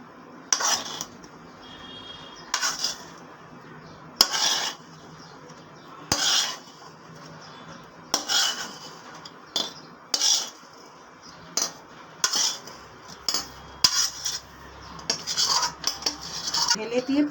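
Sesame mixture for til er takti is poured out and spread across a ghee-greased metal plate, giving repeated clinks and scrapes of a utensil against the plate in bursts with short pauses, close by and no talk.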